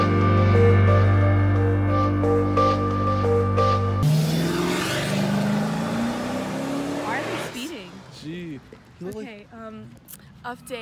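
Two Volkswagen cars idle on a road while one gives a jump start to the other. An engine tone rises under steady background music, then people talk over the fading engine.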